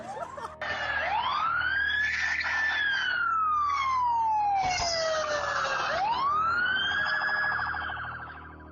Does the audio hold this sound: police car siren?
yes